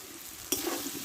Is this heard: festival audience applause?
no